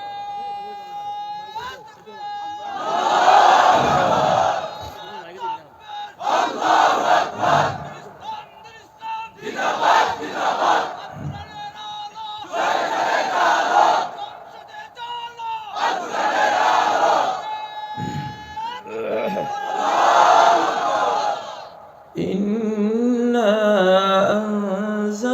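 A large crowd at a Bangladeshi Islamic sermon gathering loudly chants takbir, answering a leader's call in repeated powerful surges that alternate with his amplified, echoing voice.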